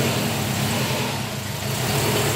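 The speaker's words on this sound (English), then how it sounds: "So he's gonna try to put his car up on the ramps." A car engine running as the car is driven up onto a pair of ramps, a steady mid-pitched idle and low rumble with slight throttle changes, close and continuous.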